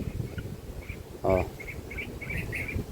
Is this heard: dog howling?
no